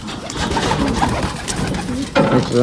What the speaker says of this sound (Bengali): দেখেন সকালবেলা কবুতরের জন্য খাবার নিয়ে এসেছি আর আমার কবুতরগুলো দেখেন